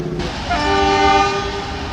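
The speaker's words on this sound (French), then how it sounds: "Un Desiro flambant neuf entre en gare en provenance de Sibiu." Brand-new Desiro train pulling into a large Romanian railway station, a loud, close, sustained tonal horn over a rumbling rail roar.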